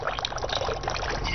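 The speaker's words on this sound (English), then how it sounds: "so then you come up for a little bit of a pour" Vodka pours from a bottle in a short, close, bubbly trickle of liquid that runs without a break for just over a second.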